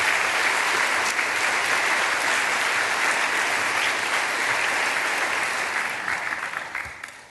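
Sustained audience applause at a university event welcoming an economics department alumnus to the stage, steady and dense throughout before thinning out at the very end.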